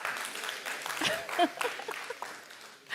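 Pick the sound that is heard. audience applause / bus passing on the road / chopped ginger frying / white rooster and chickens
audience applause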